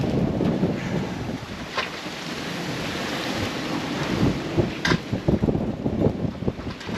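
Strong wind roars over a sailboat at sea while crossing between Cefalonia and Sicily, a continuous gusting rush with buffeting on the microphone and irregular splashes of waves against the hull growing busier toward the end.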